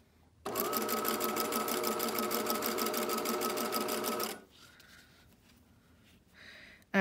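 A sewing machine runs steadily for about four seconds, stitching elastic onto a pair of Kapunda undies, then stops, leaving a quiet room with faint handling noise.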